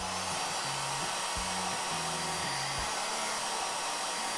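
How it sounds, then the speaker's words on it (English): A blow dryer is drying a toy dog's fur and runs with a steady, loud hissing roar throughout, while a low buzzing hum shifts pitch in short steps underneath. "We're gonna use this blow dryer first."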